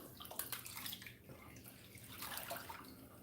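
Water sloshing and rinsing dirt in a gold pan indoors, a close, faint, irregular swishing with small splashes and drips continuing throughout.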